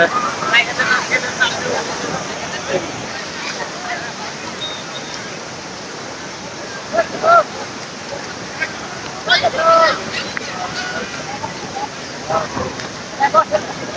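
Waves washing onto Kuakata beach in strong wind, a loud continuous roar of surf and gusts close by, with brief bursts of voices over it.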